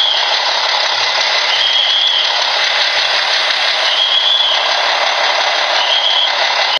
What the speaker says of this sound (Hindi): जब आप लोग इसको रिवर्स में डालोगे तो आपका ये साउंड ऑन हो जाएगा अपने आप ही ये सिटी की तरह बोलने लग जाएगा